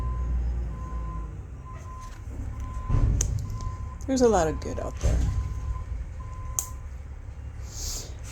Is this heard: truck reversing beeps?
yes